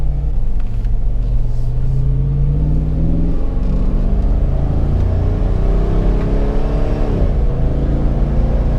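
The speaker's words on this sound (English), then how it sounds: "Let's put it back in the tap shift gate and manually accelerate to 70." A Jeep Wrangler with an LS/LT V8 swap accelerating on a highway, a steady deep engine rumble rising in pitch through the gears, with a drop and climb again at a shift near the end.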